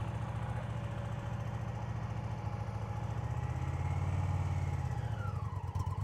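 A motorcycle engine runs steadily at high revs during slow riding practice, a continuous close drone that rises slightly in pitch toward the end, with no talking.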